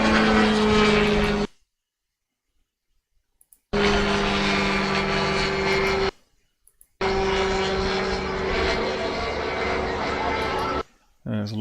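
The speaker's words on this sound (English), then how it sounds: "so we hear more of the engine noise." A propeller aircraft engine drones loud and close in three long steady stretches separated by abrupt silences, with a constant tonal hum under the roar.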